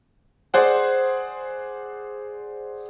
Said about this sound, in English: and French chord sounds like this